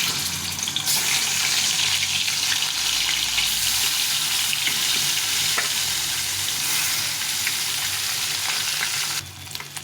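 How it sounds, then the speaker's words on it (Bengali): Snakehead fish frying in hot oil, a loud, dense, continuous sizzle that holds steady for several seconds and eases slightly just at the end. "এই বাকি মাছগুলো ভেজে নিলাম"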